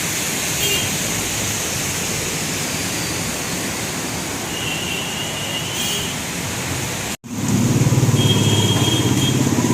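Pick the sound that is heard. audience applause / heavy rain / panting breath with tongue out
heavy rain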